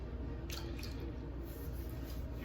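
Warm water from a bowl splashed onto the face during a straight razor shave, a couple of soft, brief wet splashes over a low steady background hum.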